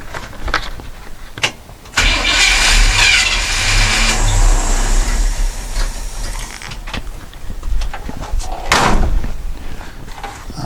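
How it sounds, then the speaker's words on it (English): A 1962 Chevy C-10 with a starter problem cranks loudly for several seconds without catching, preceded and followed by sharp mechanical clunks. "We'll give her a few more cranks."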